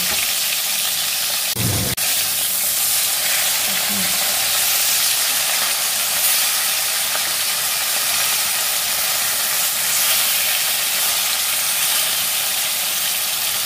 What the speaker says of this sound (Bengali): মাছগুলোকে একটু ভালো করে ভাজবো, একটু মোটামুটি কড়া করেই ভাজবো।